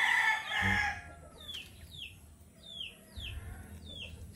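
Rooster named Lemon crowing in a backyard pen, joined by other chickens, with a short loud burst early and a series of repeated rising chirps or calls at a steady pace over rustling background noise.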